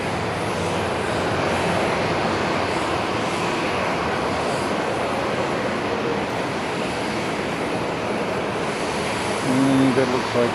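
Airplane engines roar steadily on a runway at Haneda Airport, a broad continuous rumble held at even loudness throughout, swelling slightly near the end; a voice talks faintly over it.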